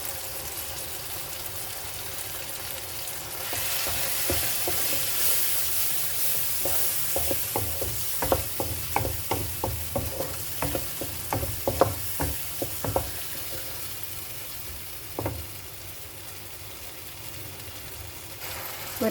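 Ground spice paste sizzles in a pan with tomato for ladies finger masala while a spoon scrapes and stirs it in a quick run of close, irregular clicks over a steady frying hiss.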